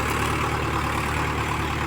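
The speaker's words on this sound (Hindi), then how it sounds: "देख सकते हैं आप 3MB प्लाउ चल रहा है और ट्रैक्टर है अपना UVO take plus 585 4 wheel drive tractor" A 50 HP Yuvo Tech Plus 585 four-wheel-drive tractor pulls a 3 MB plough, its engine a steady, loud, close low drone with no break and no talk.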